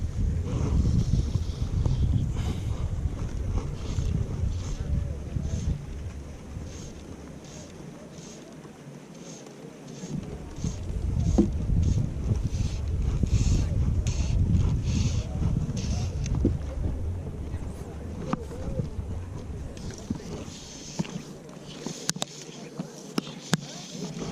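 Steady wind buffeting the microphone while fly fishing for black bass on a river in Gerês, Portugal, with a rough, gusty rumble throughout.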